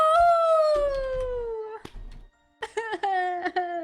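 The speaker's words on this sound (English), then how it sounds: "the howl of the were shell" The were shell howls in the golf game Golf With Your Friends: a long, wavering, wolf-like wail that slowly falls in pitch, breaks off, then returns in a shorter, shakier second howl.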